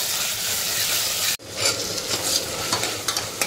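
Tomato, onion and ginger-garlic paste with salt being sautéed in a pan for a black chickpea curry: a steady, loud sizzle with stirring scrapes, broken by a brief pause before the frying resumes.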